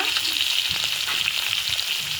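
Dense, busy sizzling of koi fish (climbing perch) frying in oil, loud and close, an unbroken crackle throughout with no talking.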